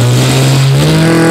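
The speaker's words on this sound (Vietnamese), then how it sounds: "Rồi giật máy luôn đó cô chú" A Makita brush cutter's small two-stroke engine, just pull-started, revs loudly and close in a steady high buzz that climbs slightly in pitch.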